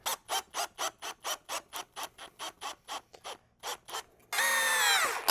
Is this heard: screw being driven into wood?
yes